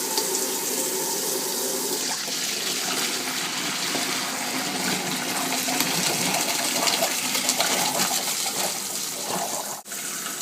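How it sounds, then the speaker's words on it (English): Hot water runs steadily from a kitchen tap, a continuous full hiss and splash with no talk, ending in a brief dip near the end. "let's turn on the water to hot"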